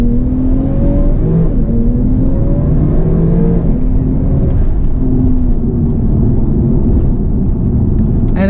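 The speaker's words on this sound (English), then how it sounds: "Now we're going to do a little launch control." 2017 Porsche 911 Turbo doing a launch-control start, a loud, continuous engine roar heard from inside the cabin with rising rev sweeps through quick gear changes and heavy rumble throughout.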